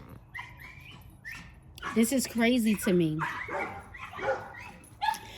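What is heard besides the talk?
dogs barking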